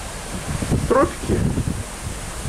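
Wind rushing across the deck of a cruise ship heading into the wind on the open ocean in the tropics, a steady broadband roar heard throughout beneath a man's speech.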